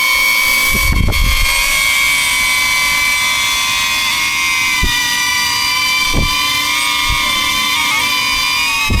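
A DJI Avata FPV drone flies nearby, its propellers giving a steady, high-pitched buzz with whining tonal layers that shift slightly in pitch. A few soft low thumps of wind against the microphone come through.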